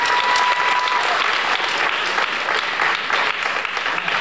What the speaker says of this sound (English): I'll go ahead and give these kids a big, big round of applause.